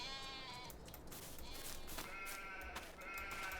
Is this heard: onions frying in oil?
no